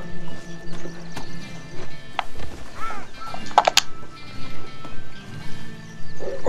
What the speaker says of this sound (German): Nee, das ist ein Pferd.